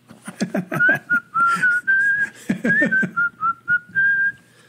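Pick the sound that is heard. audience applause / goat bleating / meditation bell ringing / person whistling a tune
person whistling a tune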